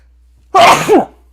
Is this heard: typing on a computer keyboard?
no